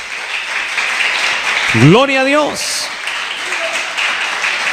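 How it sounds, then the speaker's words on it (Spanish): A church congregation claps continuously through a worship service, a broad steady wash of applause under someone speaking briefly in the middle. "Dele un aplauso fuerte al Señor."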